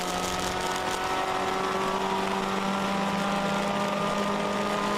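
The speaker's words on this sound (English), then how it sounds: "You can just hear that motor scream." A race car engine holds high revs as it sweeps through the carousel turn at Road America during an endurance race, a steady, sustained whine with a droning tone that stays loud and even.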